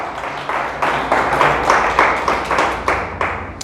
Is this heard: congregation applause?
yes